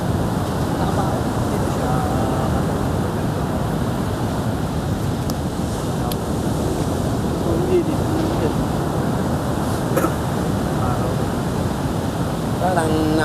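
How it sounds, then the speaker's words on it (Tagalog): Heavy surf rolls and breaks continuously on the shore at Baler, a dense, steady wash of water noise that fills the scene, with occasional faint voices underneath. "Parang nakakamatay ang alon dito."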